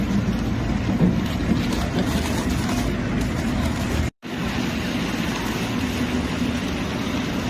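Inside the passenger cabin of a ferry bound for Santorini, a steady, loud engine drone and rumble fills the space without a break except for one momentary dropout.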